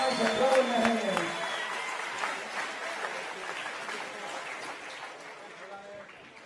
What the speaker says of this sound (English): Round of applause for those 2 gentlemen.